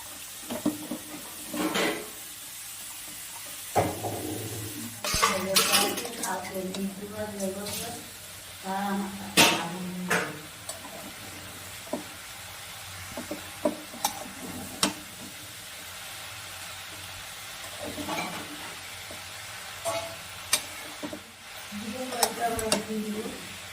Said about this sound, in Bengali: এবার কেটে রাখা লাউয়ের টুকরোগুলো দিয়ে দিলাম।